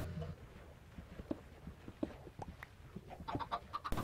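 Faint clucks from chickens on a Minecraft chicken farm come as a scattered series of short, soft calls over a quiet, noisy background.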